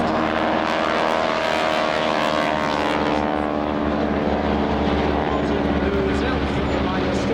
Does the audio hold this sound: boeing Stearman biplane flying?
yes